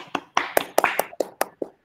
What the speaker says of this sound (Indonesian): tepuk tangan dulu dong semua untuk ketiga kelompok